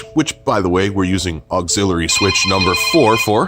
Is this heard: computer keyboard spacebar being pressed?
no